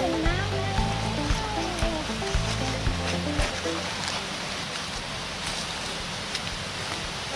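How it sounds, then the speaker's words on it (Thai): A forest stream or waterfall rushing steadily in a jungle setting, with music and a voice over the water at first before the broad flowing roar continues alone. "นี่น้ำ"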